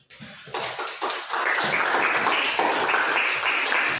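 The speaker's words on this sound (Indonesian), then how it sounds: "mari kita berikan aplaus untuk kelompok 3" A classroom audience gives applause for a student group after their presentation, starting with a few scattered claps and swelling into steady, dense clapping that continues to the end.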